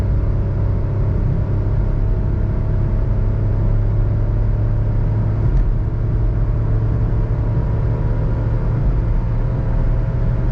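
A 2021 Suzuki Alto VXR/VXL with a 660cc engine drones steadily while accelerating through the gears, a loud, constant low rumble and whir heard from inside the car.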